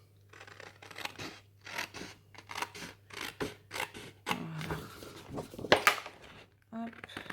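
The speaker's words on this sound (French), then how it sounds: "Moi qui déteste couper au ciseau." Scissors cut through paper for a pop-up album in a series of close, crisp snips and slides with short pauses between, while a voice talks quietly over the cutting.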